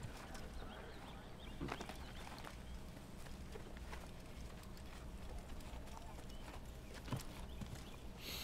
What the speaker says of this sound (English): can hear the horse